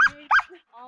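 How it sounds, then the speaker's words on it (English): A dog barks a few times up close at a farm stay in Baja, Mexico, giving short sharp barks with brief whines between them, while people greet one another nearby. "Crazy dog."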